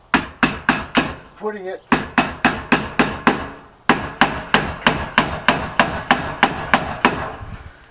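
A hammer tacks metal trim onto a shed door in a steady run of sharp, ringing strikes, close and loud, with a brief pause midway while someone speaks a few words.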